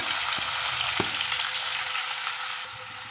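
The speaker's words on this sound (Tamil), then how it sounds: "கறிவேப்பிலையும் வெங்காயமும் சேர்த்துடலாம்" Curry leaves and onion hit hot oil with popped mustard seeds, producing a loud, steady sizzle with a few stirring clicks, close up and alone.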